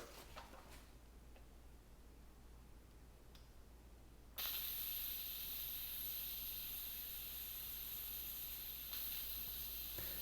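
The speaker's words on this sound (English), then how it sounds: "You need to be very slow when opening that steam valve." Steam hisses from an Instant Pot valve during pressure release while pulled pork cooks, starting abruptly partway through as a loud, steady broadband rush after a few quiet clicks.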